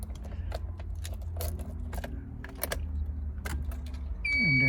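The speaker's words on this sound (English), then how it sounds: "if I turn my keys" Keys jangle and click in the ignition of a 1990 Honda Civic EF, a series of sharp metallic taps and rattles close up, ending in a rising electronic whir as the ignition turns on.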